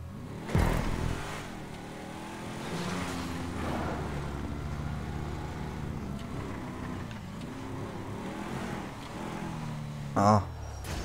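A 4x4 driven in GTA, its engine droning steadily with revving swells and a brief sharp clatter near the end, close and continuous.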